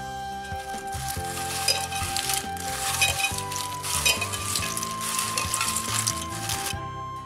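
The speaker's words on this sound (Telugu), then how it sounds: "ఇప్పుడు దీంట్లో 1/2 టీ స్పూన్ కారం చల్లుకొని ఆ తర్వాత చిటికెడు ఉప్పు చల్లుకొని ఒకసారి బాగా కలపాలి" Fried potato chips are tossed with chili powder and salt in a bowl, giving a steady soft rustling and stirring texture with faint clinks, with a continuous music bed over it.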